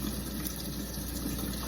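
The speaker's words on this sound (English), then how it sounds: "pour this one out, filling up another can." Water pours steadily into a can and is then used to fill another, a continuous rushing, gushing flow heard close up with no break and no talk.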